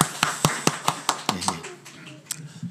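Scattered hand claps from a church congregation during a Sunday worship service, loud distinct slaps at first that thin out and fade into quieter room sound.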